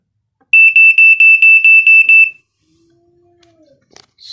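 A fire alarm on a test board sounds a rapid run of about eight loud, piercing electronic beeps lasting under two seconds, followed by near silence with faint low hums.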